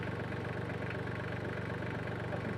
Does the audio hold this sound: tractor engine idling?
yes